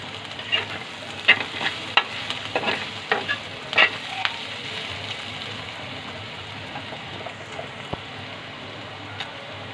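Onions fry in a pan until reddish-brown while being stirred, giving a steady, soft sizzle with scattered scraping clicks from the spoon that thin out toward the end, with no voices.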